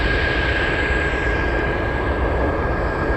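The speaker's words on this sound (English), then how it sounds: "Sounds like a lot of military traffic out there." Steady, broadband roar of military aircraft flying unseen in fog near Anchorage airport, a continuous distant engine rumble with a faint high whine and no talk.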